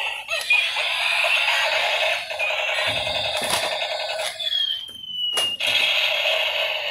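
A battery-powered toy chicken gives off electronic clucking and crowing sounds with a steady mechanical whir beneath, loud and close, ending in a rising squeal.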